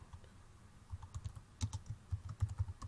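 Computer keyboard keys typed in quick, uneven bursts while entering a folder name, close and fairly quiet with no talking.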